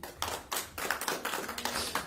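A church congregation gives a clap offering, rhythmic hand claps in steady bursts, soft and somewhat distant, with no talking over them.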